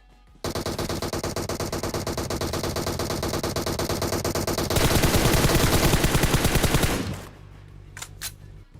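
Sustained automatic rifle fire from an AKM and M16 in a shooting video game rattles in a dense, unbroken stream, loud and close, then cuts off abruptly.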